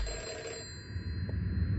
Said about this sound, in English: Oh, the phone's getting louder.